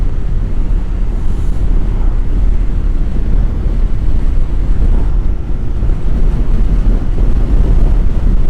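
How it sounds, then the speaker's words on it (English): Wind on the west Frisian coast on a day with a slight north wind, buffeting the microphone as a loud, continuous low roar that stays even throughout. "We have a slight north wind."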